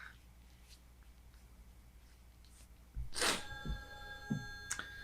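A telephone rings in a dramatic film scene. The ring arrives suddenly after quiet, bright and ringing for a second or so, then a shorter chirp follows.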